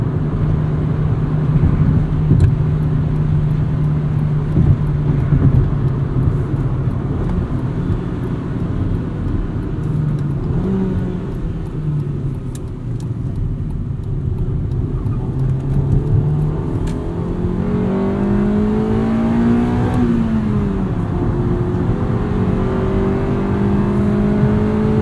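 A 1999 Honda Civic Si engine pulls hard through the gears toward redline, its steady rising drone climbing in pitch, dipping at shifts and climbing again, loud and close from inside the car.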